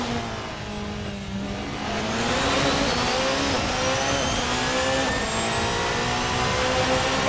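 A Radical SR3 XXR race car engine revs loud and close, its pitch climbing steadily as it accelerates, with a broad steady roar running throughout and no talking.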